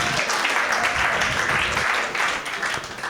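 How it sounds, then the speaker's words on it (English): Comedy club audience applauding a stand-up comic, a dense steady wash of clapping that holds for a few seconds and tapers slightly near the end. "you can clap it up for that"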